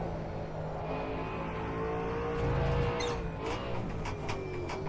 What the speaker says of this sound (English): I kind of want to turn up the engine sound as well